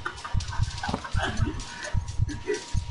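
Dogs in the surgery video game Surgeon Simulator 2013, a run of short, close barks and yips in a steady rhythm, loud and clear, with no talk over them.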